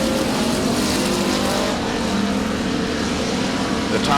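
Several race cars roaring around the Devil's Bowl Speedway oval, a dense continuous engine drone with passing surges, loud and near throughout, with a voice faintly underneath.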